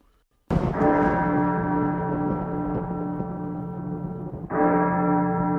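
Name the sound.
church bell rung by a monk pulling the bell rope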